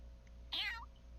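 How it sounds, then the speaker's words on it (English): A single short cat meow in Fire Emblem: Three Hopes, rising then falling, clear but soft, over a quiet low background hum. "Well, you're a good kitty, aren't you?"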